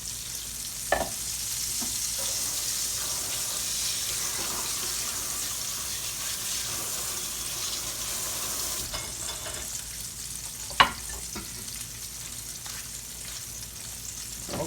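Buffalo chicken pieces fry for a crispy spicy chicken sandwich, giving a steady, even hiss of bubbling oil broken by a couple of sharp clicks.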